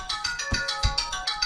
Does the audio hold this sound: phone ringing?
yes